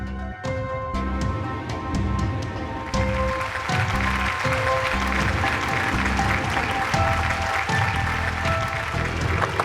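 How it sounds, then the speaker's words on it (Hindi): Audience applause at a stage event in a Hindi children's fantasy TV episode, a steady, dense clapping that fills the whole stretch and blends with bright music throughout. "अपनी तालियां बचा के रखिए।"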